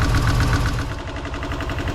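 A Toyota 3.3 V6 with a freshly replaced timing belt runs close and loud with a steady low rumble and a rapid, uneven metallic knocking or ticking beating through it, with no talking.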